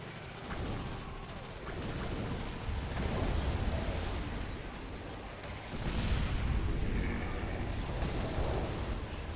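Turret artillery fire rumbles in the video game Dawn of War, with heavy, dense booms and explosions that swell and layer continuously into a loud battle din.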